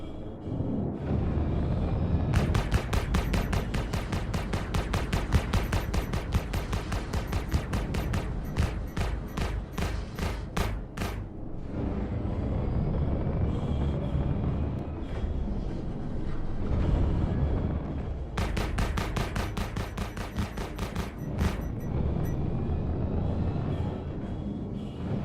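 Omniscape cannons in a video game firing in long, rapid volleys of evenly spaced shots, a loud rhythmic barrage that pauses briefly before resuming.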